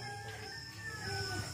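Rooster crowing in a quiet rural village, faint and distant over a steady background hum, with no talking.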